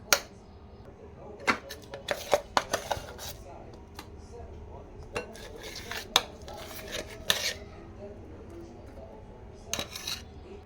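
Ginger garlic paste stirred by spoon into ground masala with green chillies in a bowl for a stuffed brinjal curry: scattered light clinks and scrapes, irregular and close, over a quiet room hum.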